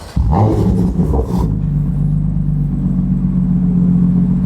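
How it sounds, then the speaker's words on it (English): A BMW F80 M3 engine cranks and fires with a loud roar, then settles into a deep, steady rumbling exhaust idle close by. "have him start up the car real quick, maybe warm it up, and then hear the exhaust"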